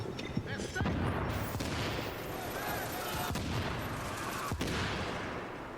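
Gunfire in The Division during a Heroic Underground mission. Repeated sharp shots and short bursts crack over dense combat noise, with a voice talking throughout.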